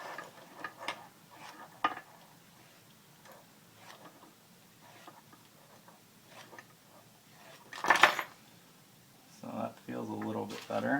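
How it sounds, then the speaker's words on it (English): Knife blade scraped and honed against a set of keys, giving faint repeated metallic ticks and clinks with a sharper jingle near the end, while someone talks over them. "you can hone your knife on your keys."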